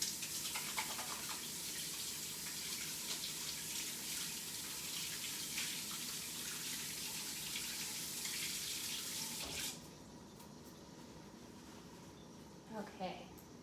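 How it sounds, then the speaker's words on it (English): Hands are washed under a running kitchen tap while a salad is being prepared; a steady, close splash of faucet water runs for about ten seconds, then cuts off, leaving a few quieter drips and handling sounds. "Let me wash my hands real quick."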